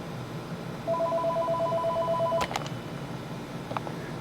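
An office desk telephone in a basement rings after extension 3301 is dialed: a steady electronic ring tone holds for about a second and a half over room noise, followed by a few faint clicks and beeps.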